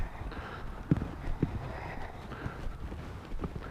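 A wild mustang loping in a training pen, its hoofbeats coming as soft, fairly faint thuds in an uneven rhythm, with two sharper hits standing out early on.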